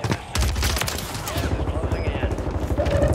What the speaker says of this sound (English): Now I'll shoot him.